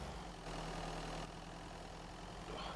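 A car engine drones steadily while driving in the survival video game Mist Survival, a low idling rumble with a constant hum, its loudness shifting slightly as the vehicle moves, with no voices over it.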